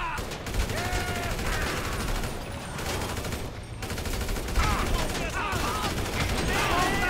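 Rapid gunfire in Grand Theft Auto 5, sustained bursts of shots crackling through a chaotic scene with whistling and shouting voices underneath, fairly loud and continuous.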